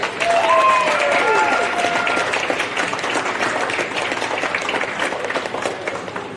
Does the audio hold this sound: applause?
yes